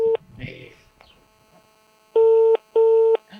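Telephone ringback tone during an outgoing call, two long steady electronic rings in a row after a brief earlier beep, with a short burst of speech and quiet hiss between them.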